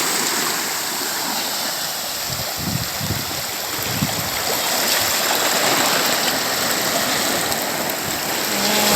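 Steady rushing water fills the whole clip, a loud, continuous broadband wash of sea waves breaking close by at Surip Beach in Bani, Pangasinan, Philippines, with a few low thumps and no voices.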